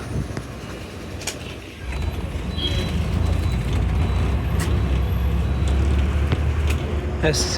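A TNSTC Jaguar government bus pulls away from Villupuram, its diesel engine rumbling louder as it gets moving, with faint clicks and a hiss over the steady low drone.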